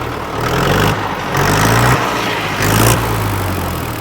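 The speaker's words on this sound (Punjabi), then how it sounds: "ਟਰੈਕਟਰ ਸਟਾਰਟ ਕਰਕੇ ਦਿਖਾ ਦਈਏ ਬਾਈ" A used tractor for sale starts up and runs at a steady idle, its loud engine throbbing close by with brief swells in revs and a constant low drone.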